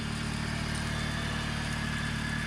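A Honda Del Sol Si engine that runs too hot idles steadily nearby, a constant low throbbing rumble with no talking.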